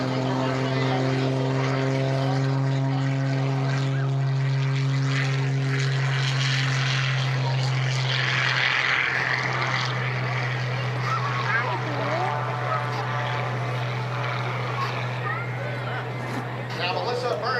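At an airshow in London, Ontario, a propeller aerobatic plane roars loudly as it takes off, a steady droning engine tone that rises and shifts as it climbs, while a commentator talks over it.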